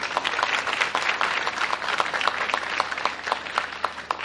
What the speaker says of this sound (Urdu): کیسے تالیاں بجا رہے ہیں خود دیکھ لیجئے۔